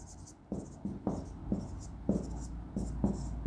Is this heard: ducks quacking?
no